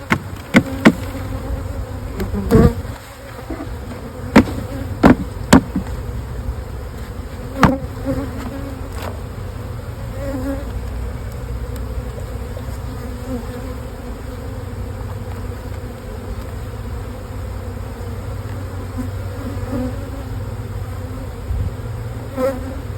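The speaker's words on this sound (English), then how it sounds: "So these bees are getting shaken straight into here" Honey bees shaken from a crowded nuc hum in a dense, continuous buzz, with several sharp knocks and thumps of frames and box scattered through the first ten seconds.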